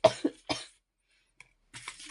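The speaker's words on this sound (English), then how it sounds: "I just had a coughing fit" Coughing fit: two sharp, close coughs, a short pause, then another burst of coughing, each loud and harsh against silence.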